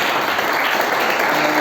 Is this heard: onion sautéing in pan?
no